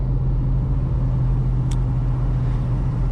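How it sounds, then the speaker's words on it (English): Manual V8 VN car engine droning steadily from inside the cabin while driving, a strong low rumble with constant road noise and a brief faint click midway. "You can probably just hear a lot of engine."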